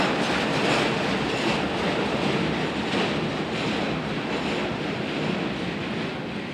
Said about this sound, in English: A loaded continuous welded rail train from SDI's Columbia City plant is on the headpin of today's westbound.